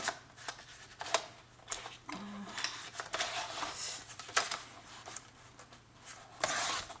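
Scissors cut paper for a Christmas scrapbooking folio with a pop-up piece. Close, repeated snips and papery rustles come in an uneven rhythm, with a few sharper cuts and handling sounds between them.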